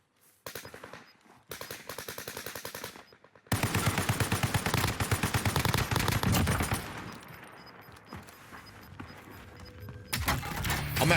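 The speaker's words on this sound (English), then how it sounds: "Hear gunshots to the southeast." Rapid bursts of automatic gunfire in Call of Duty Warzone, several fast rattling volleys with short gaps between them, loud and close, followed by a long sustained stream of shots and a final burst.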